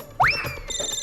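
A phone ringtone begins with a quick rising electronic chirp, followed by steady high beeping tones, clear and close.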